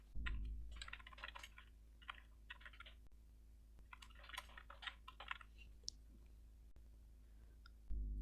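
Text is typed on a computer keyboard in quick bursts of soft, light key clicks with short pauses between runs. The typing is close but faint against a low steady hum, and nobody speaks.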